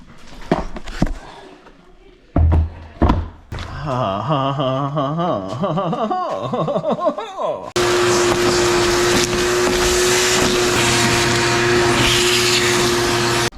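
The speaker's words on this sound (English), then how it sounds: "I put a brand new filter on the old vacuum cleaner" A few brief knocks and a whirring motor sweeping in pitch, then a vacuum cleaner roars on loud and steady with a high whine.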